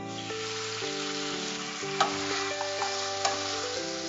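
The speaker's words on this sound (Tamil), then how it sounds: "சோ இப்போ சிக்கன் வெந்திருக்கான்னு பாக்கலாங்களாமா?" Chicken cooking in a pan for a Pallipalayam chicken dish: a steady, even sizzle with a few sharp stirring clicks, heard beneath a tonal musical backing.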